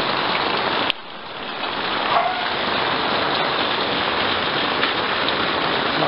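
Steady heavy rain pours down in a dense, continuous hiss, loud and close, with a brief sharp knock near the start.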